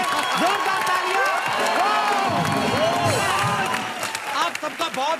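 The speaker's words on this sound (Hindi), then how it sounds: "एक बार किल दिल की पूरी टीम के लिए जोरदार तालियां।" A comedy show's studio audience claps, cheers and whoops for the team, a loud, dense crowd roar with shouting voices mixed in that thins toward the end.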